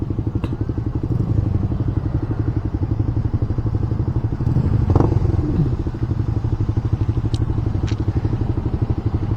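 A Suzuki GSX-S150 motorcycle engine burbles and pops up close while downshifting, its rhythmic exhaust pulsing with occasional sharp crackles as revs drop.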